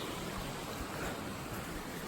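A creek in snowmelt season flows steadily nearby, a soft, even rushing wash of water with no voices.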